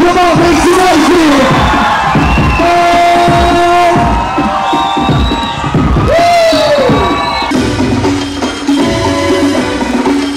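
Crowd cheering, whooping and screaming at a beatbox and b-boy show, a loud continuous roar with shouted voices rising above it throughout.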